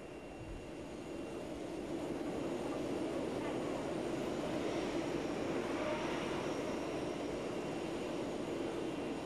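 A steady, loud airplane engine roar fills the whole stretch, droning without pause like a plane idling nearby on the tarmac at Langkawi airport.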